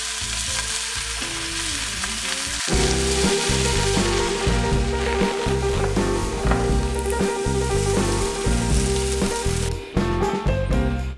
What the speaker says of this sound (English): drop some slices down in there